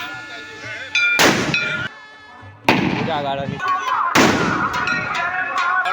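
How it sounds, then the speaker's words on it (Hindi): Fireworks go off during a village flag procession on the first day of Durga Puja: three loud, sharp bursts crackle and ring out close by, with voices talking between and over them. "आतिशबाजी सेहो होइए।"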